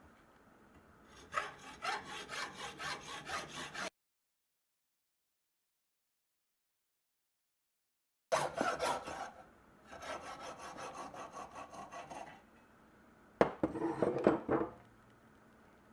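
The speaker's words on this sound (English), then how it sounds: "I just got it in my vise with a little piece of leather. Used a hacksaw." A hacksaw cuts through a piece of antler clamped in a vise with leather padding, giving steady rasping back-and-forth strokes in several bursts separated by a long silent pause, close and fairly loud.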